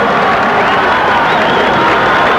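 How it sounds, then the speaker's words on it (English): Crowd at a 1981 college ice hockey playoff game in an arena roaring and cheering after a Colgate goal against Northeastern: a loud, dense, continuous wash of cheers and applause throughout. "crowd erupts on that play"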